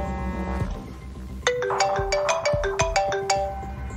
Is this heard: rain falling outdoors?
no